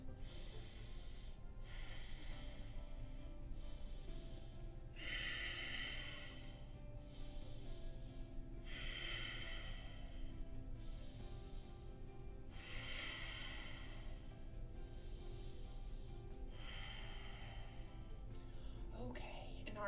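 Children in a butterfly yoga pose take five slow chameleon breaths, each a soft breathy exhale rising and fading in a steady rhythm over a low background hum.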